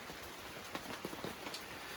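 Rain falls steadily on a winter camp, a constant hiss with scattered louder drops tapping nearby surfaces, no voices.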